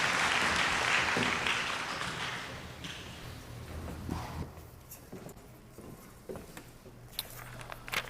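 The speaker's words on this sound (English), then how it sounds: "please give them a big round of applause" The audience at a school convocation ceremony claps loudly at first, then the applause thins and fades into scattered claps and shuffling footsteps in the room.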